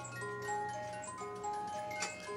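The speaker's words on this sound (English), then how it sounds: "It is so nice having a good working cuckoo clock." A working cuckoo clock, just repaired, ticks steadily and evenly at close range with no talking, faint ringing tones lingering in the background.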